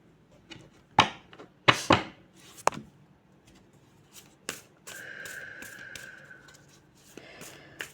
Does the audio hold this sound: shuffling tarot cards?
yes